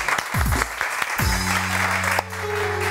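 A studio audience on a Pakistani morning television show claps in a brief burst of applause, with a swooping musical sting and sustained tones layered over the clapping.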